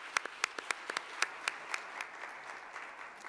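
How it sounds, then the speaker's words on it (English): Sparse, quiet applause from a conference audience, a handful of distinct claps at first that thin out into a faint patter, heard alone without talk. "Please, a round of applause to Mr. Mana."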